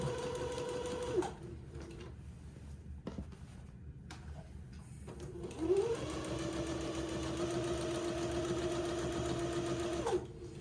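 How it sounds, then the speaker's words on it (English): Sewing machine stitching a 3/8-inch elastic casing along the leg opening of plaid button-on bloomers, with a steady close motor whir in two runs separated by brief pauses, no talk. "sew my 3/8 of an inch casing along the bottom of the leg opening"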